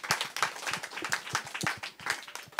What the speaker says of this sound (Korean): 한번 박수 해줘요.